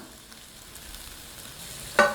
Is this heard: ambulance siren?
no